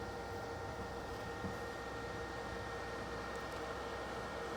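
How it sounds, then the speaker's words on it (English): An electric kettle heats water off grid with a steady broadband hiss and faint hum, constant and moderately quiet throughout. "That's the kettle."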